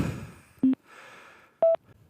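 A mobile phone rings out in a wooded off-road riding area with an incoming sales call, two short, loud electronic tones about a second apart over quiet outdoor background.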